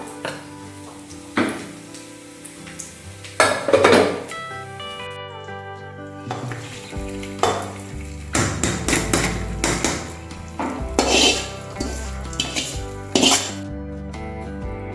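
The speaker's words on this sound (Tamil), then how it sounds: "இப்போ இதை எடுத்து நம்ம வெண்பங்களுக்குள்ளே எடுத்து கலக்கலாம்" A utensil scrapes and knocks against a pan while fried cashews are mixed into ven pongal, producing irregular close clanks and thuds over a faint sizzle, with several sharp metallic hits.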